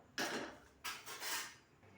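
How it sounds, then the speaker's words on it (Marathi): A metal kadhai is set down on a gas stove with a couple of short, soft clanks and scrapes, quiet and close, followed by faint handling noise. "चला, कढई ठेवत आहे गॅसवर"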